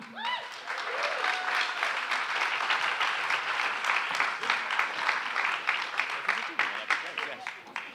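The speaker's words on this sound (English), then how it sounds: "So a big round of applause for our panel." A dense audience at a panel on video game music composing applauds steadily for several seconds, sustained clapping from many hands with a few cheers rising above it.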